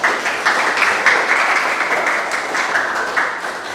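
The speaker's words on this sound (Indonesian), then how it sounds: "Tepuk tangan dulu dong untuk ini." Audience applause after a school presentation, a dense, steady patter of many hands clapping throughout, fairly loud and close with no talk over it.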